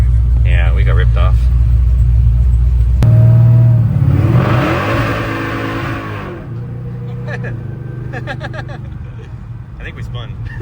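A supercharged Hemi truck engine roars and revs hard for a few seconds with a brief tire spin, its rumble settling to a steady idle while people talk over it.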